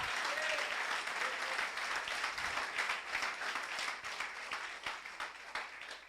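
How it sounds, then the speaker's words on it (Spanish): A church congregation applauds during a Spanish-language sermon, with sustained clapping that holds steady and then gradually thins and fades, heard fairly quietly at a distance. "Un aplauso a esa misericordia"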